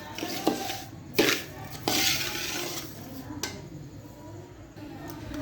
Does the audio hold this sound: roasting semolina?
yes